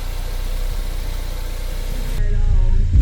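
Ford Focus RS engine idling after a new intercooler and charge pipes were fitted, a steady close rumble that swells slightly louder near the end, with no talk over it.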